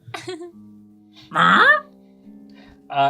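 A person imitates a seagull with short, strained, honking cries, one loud nasal squawk in the middle and quieter calls before and after, separated by near silence.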